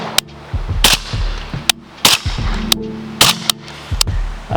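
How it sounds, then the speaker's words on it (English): A suppressed 300 Blackout rifle firing subsonic rounds through a Q Trash Panda silencer: several sharp, close muffled cracks at irregular intervals, each followed by mechanical clatter and a brief ring. "Real quick, I'll demonstrate the first round pop."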